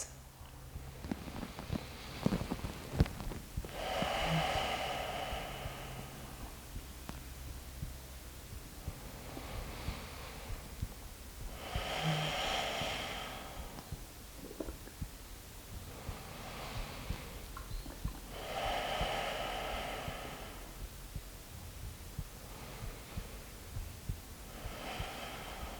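Slow, deep breathing during a relaxation breathing exercise, five or so long inhales and exhales rising and fading in a calm rhythm, close and soft over a quiet room hum.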